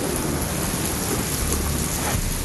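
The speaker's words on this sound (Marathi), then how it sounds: "विजांचा कडकडाट आणि सोसाट्याच्या वाऱ्यासह मोठा पाऊस झाला।" Heavy unseasonal rain pours in the Sahyadri hills, a dense, constant roar of rainfall with rumbling thunder and gusting wind filling the whole stretch at steady loudness.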